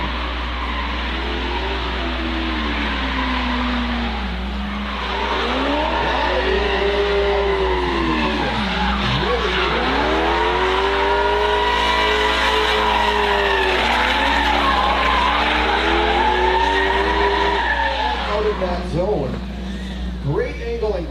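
Drift cars at a drift event squeal their tires in long skids over high-revving engines, loud and sustained. A commentator talks the whole time over the noise.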